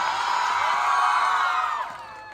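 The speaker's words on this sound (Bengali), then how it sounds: "তোমাদের জন্য একবার জোরে হাততালি হবে নিজেরা।" A college audience at a performance event whoops and cheers loudly with clapping, a dense burst of crowd noise that holds for about two seconds and then drops away.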